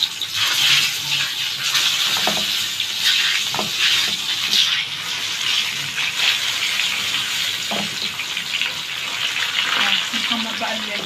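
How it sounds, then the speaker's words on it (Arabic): Eggplant slices fry in hot oil for a fish breakfast, giving a loud, steady, close-up sizzle with occasional scraping and clinking from stirring. "نحمر بقى البدنجان وبعدين نبقى نعمل السمك"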